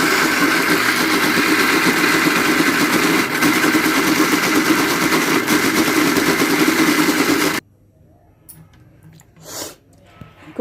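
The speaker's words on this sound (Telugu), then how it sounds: "మిక్సీలో వేసేసుకుందాము." A mixer grinder blends soaked lentils into batter for dibba rotti, a loud, steady motor whir for about seven seconds that then stops abruptly, followed by quiet with a couple of faint knocks.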